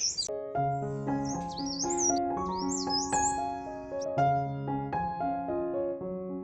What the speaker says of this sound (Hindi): जंगल वाला एरिया है, तो बहुत सारे पंछियों के चहचहाने की आवाज़ भी सुनाई दे रही है।